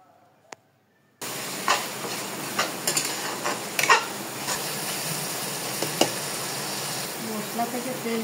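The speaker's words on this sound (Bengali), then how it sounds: "জল দিয়ে মশলাটা ভালো করে আবার কিছু সময় কষাবো।" Spice paste sautéing with a splash of water in a pan, a sudden steady sizzle that starts after a brief quiet moment, with occasional clinks of a stirring utensil.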